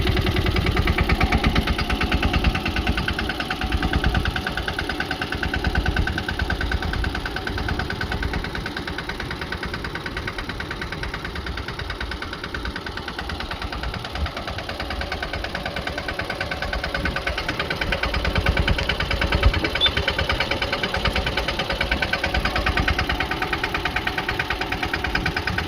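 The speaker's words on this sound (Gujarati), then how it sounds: "તો આપણે લાઈવ ટ્રેક્ટર ચાલુ છે" A tractor engine idles steadily on a village farm, a continuous low rumbling drone with a faint knocking vibration that holds even for the whole stretch, with no voices over it.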